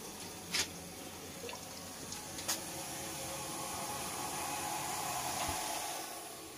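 Hot water from a geyser runs from a household tap in a steady, even rush, with a couple of faint clicks early on and no talking over it.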